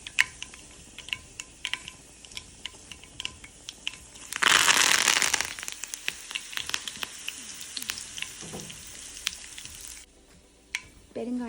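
Curry leaves dropped into hot oil with mustard seeds, a close steady sizzle that surges into a loud burst of crackling for about a second before settling back to a lighter fizz with scattered pops.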